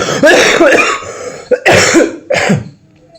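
Three harsh coughs in quick succession, close and loud, the first longest and the last shorter, followed by quiet.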